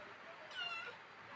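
A cat gives a single short, fairly faint meow over quiet room noise, with no talk.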